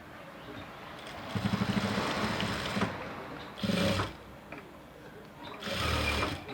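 Electric sewing machine stitching a blouse during an alteration, running in short bursts of rapid needle clatter with quiet pauses between runs, close and fairly loud.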